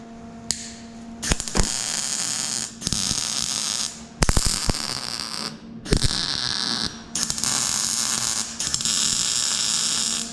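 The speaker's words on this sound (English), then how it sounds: "Okay, it's ready to weld." Welding tacks on a car rocker panel being sectioned, heard as several separate bursts of crackling electric buzz over a steady hum, each lasting a second or more, with short gaps and clicks between them.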